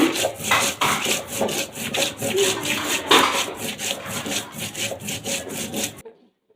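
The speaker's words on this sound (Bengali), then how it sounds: "আমি শুকনো মরিচ আর একটু সামান্য পরিমাণে জিরা বেটে নিচ্ছি" Dried red chillies and a little cumin are ground on a stone in steady, rhythmic back-and-forth rubbing strokes, close and fairly loud, before stopping abruptly.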